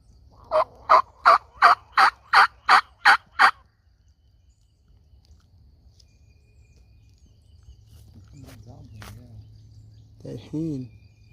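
A wild turkey gobbler gobbles in a rapid run of about eight loud, evenly spaced notes, followed by quieter bird calls and soft rustling, in spring.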